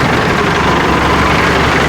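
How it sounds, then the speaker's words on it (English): The motor of a car crusher runs loud and steady, a dense, constant engine drone with a low rumble and no pauses. "Sorry, the motor's so loud."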